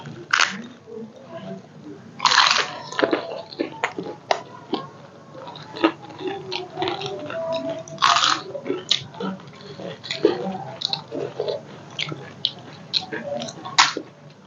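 Crunchy bites and wet chewing of a raw green chilli, a run of close, loud crunches and squishy mastication spread across the stretch, with people talking in between.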